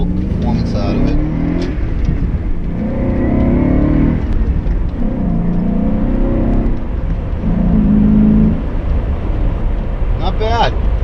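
A 1995 BMW Alpina 530i inline engine on a two-lane road, revving up in repeated surges as it accelerates through the gears, loud and close from inside the cabin with brief talk near the end.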